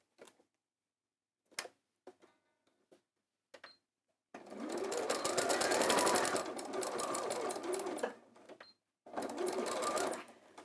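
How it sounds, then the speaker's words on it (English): A sewing machine stitches a seam on a summer bag made from fat quarter fabric: a few short clicks and brief bursts, then a sustained rapid whirring run, a pause, and another short run, close and clear. "Let me just sew that"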